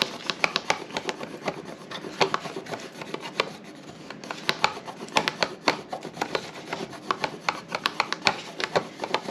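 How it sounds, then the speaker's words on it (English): A paintbrush rubs glue on the inside of a small paper gift bag, giving quick, repeated scratchy strokes at close range, steady and fairly quiet with no talking. "I'm just going to rub it on the inside just to make sure that that glue grabs"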